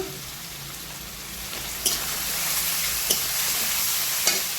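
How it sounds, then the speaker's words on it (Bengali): Turmeric, cumin and coriander powders frying in oil for a mixed small-fish and radish curry, a loud continuous sizzle like rain with a few sharp stirring knocks against the pan, no speech. "সব কিছু দিয়ে আমি ভালো করে মশলাকে কষিয়ে নেব"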